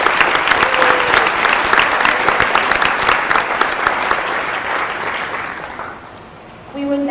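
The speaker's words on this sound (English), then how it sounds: "Let's give them another round of applause." Audience applause at a senior awards ceremony, a dense steady clapping from a large crowd that holds for about six seconds, then thins and fades near the end.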